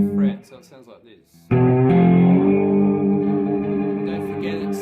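Three-string slide cigar box guitar plays the opening of a piece: a few plucked notes, then a sustained, reverberant slide up to a ringing, atmospheric held chord.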